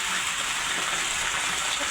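Steady rain falls in a rural village during the monsoon, a constant dense hiss throughout at even loudness with no voices.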